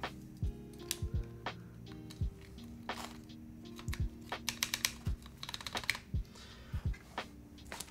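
Keys clacking on a KBDFans Margo mechanical keyboard being built, with sparse irregular presses, some single and some in quick bursts, sounding sharp and close in a quiet room.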